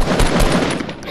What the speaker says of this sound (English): You're shooting wood now.